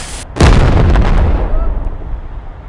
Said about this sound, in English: today we're going to light a firework